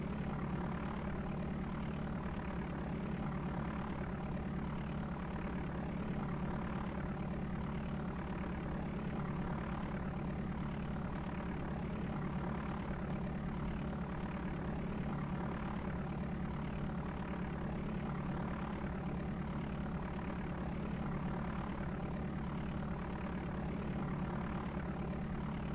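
A simulated propeller aircraft engine from Flight Simulator 4 drones at a constant, even pitch throughout, a steady mechanical hum with no variation in loudness.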